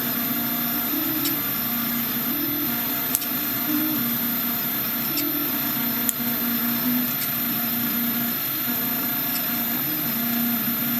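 A SeeMeCNC H1 3D printer running a print, giving a continuous whirring motor drone with a faint high whine, a slowly repeating pattern of movement, and a couple of brief sharp ticks.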